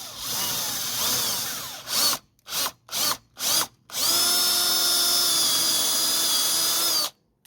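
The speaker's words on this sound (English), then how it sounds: "So let's bore this hole down here 9mm." Power drill boring a 9mm hole into a carburetor stand: a steady whine, then four short bursts, then a long sustained run, loud and close with no talk.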